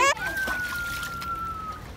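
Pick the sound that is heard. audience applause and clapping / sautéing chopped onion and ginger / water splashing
water splashing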